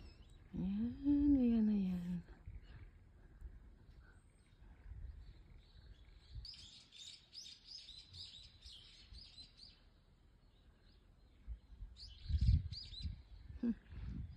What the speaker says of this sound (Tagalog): Pakinggan niyo yung mga ibon.